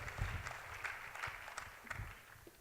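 Applause from a church congregation at a Sunday service, a soft, steady patter of many hands clapping at a distance, fairly faint and even throughout with no voices over it.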